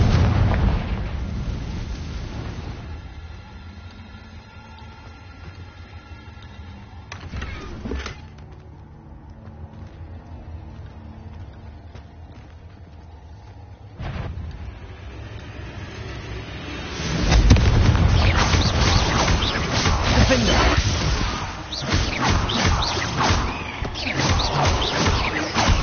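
Confringo fire-blast spell bursting in Hogwarts Legacy, a loud explosive boom with a rumbling crackle that swells and lingers for several seconds over a low ambient background.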